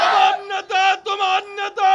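A crowd at a religious gathering chants takbir in response, loud and close, several rhythmic shouted bursts with short gaps between them.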